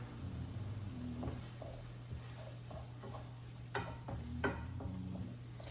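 Ground beef seasoned with salt and pepper is stirred in a pan for a crockpot casserole, giving scattered scraping clicks over a steady low hum and faint sizzle.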